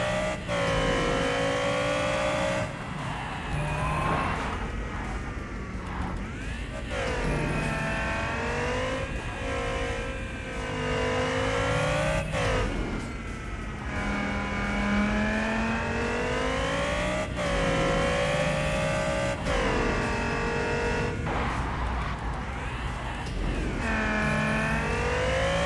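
A race car in the street-racing video game Wilder World accelerates on the Lunar Lane course, its engine rising through the gears in repeated sweeping revs, loud and continuous for the whole stretch with no talk.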